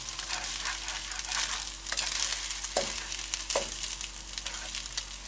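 Eggs, onions and rice fry in a pan with a soft, continuous sizzle, broken by a few stirring scrapes and clinks of the utensil, quiet and close.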